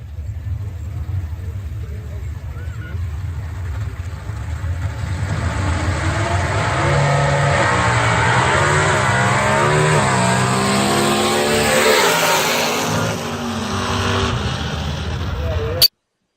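Loud race car engines roar and rev continuously on a drag strip at night, building in intensity as vehicles accelerate hard, with crowd noise and voices mixed underneath.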